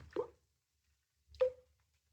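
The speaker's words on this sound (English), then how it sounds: "Someplace in the wall there was a drip." Water drips somewhere inside a room wall in a narrow Edinburgh street, two soft isolated plops about a second apart in near silence.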